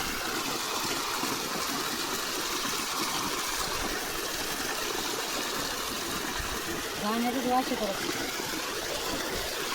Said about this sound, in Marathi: घाबरतोच ना लय प्रेशर आहे पाण्याला